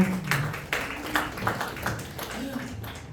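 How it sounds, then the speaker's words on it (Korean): Audience applause greets a doctor coming onto the stage at a Korean literature and arts association event, with scattered claps mixed into room noise and voices. "여러분 박사님 올라오시는 동안에 뜨거운 박수로 맞이해 주시기 바랍니다."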